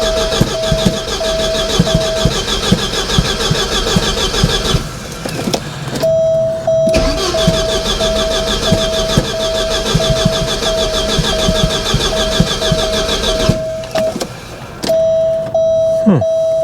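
A Porsche 944 Turbo engine being cranked after the ignition is switched on: repeated bursts of starter churning and engine noise, broken by short pauses, with a steady electronic beep tone running through much of it.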